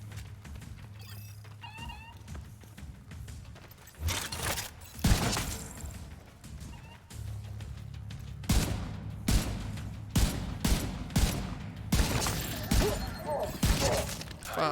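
Gunfire in The Division 2 video game comes in loud, sharp bursts separated by quieter stretches, with several volleys packed together toward the end.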